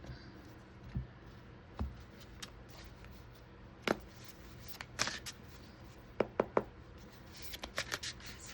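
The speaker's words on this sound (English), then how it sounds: "Let's go ahead and cut the deck." Tarot cards being cut and shuffled by hand, close and soft, with scattered light slaps and riffles and a quick cluster of crisp card snaps near the end.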